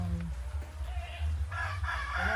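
Chickens cluck and a rooster crows close by on a farm, over a steady low rumble of background noise as rain begins.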